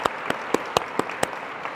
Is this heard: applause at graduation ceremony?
yes